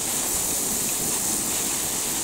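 Garden hose water sprays steadily onto potted orchids outdoors on a sunny day, a loud, even hiss with no talk.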